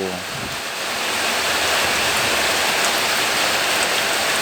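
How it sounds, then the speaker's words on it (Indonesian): Heavy rain pouring down, a dense steady hiss that swells in the first second and then holds loud and unbroken, with no talking. "karena hujannya semakin deras"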